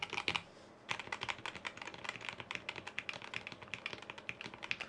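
Rapid typing on a KBD67 Lite mechanical keyboard, a steady run of close, crisp keystroke clacks after a brief pause near the start, with no talking.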